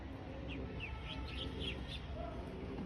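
Pigeons, including Giribaz tumbler birds, give faint, scattered chirping calls at a rooftop loft over a low, steady outdoor background.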